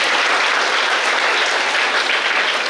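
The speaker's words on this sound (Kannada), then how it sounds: "ಎಲ್ಲರೂ ಜೋರದ ಚಪ್ಪಾಳೆ." Loud, dense audience applause at a cultural programme, sustained evenly across the whole short stretch.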